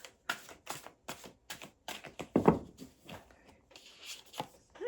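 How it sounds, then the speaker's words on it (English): Tarot cards being shuffled by hand at close range, a run of crisp riffling snaps and taps in quick irregular bursts with one louder flurry midway, no talk over it. "I guess I needed to shuffle that"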